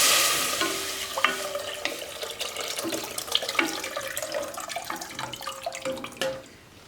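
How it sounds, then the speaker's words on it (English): Water pours into a pot of sautéed garlic, vegetables and cut potatoes for green pea soup, a splashing, sizzling rush with clinks and stirring scrapes, loud at first and tapering off. "and add water"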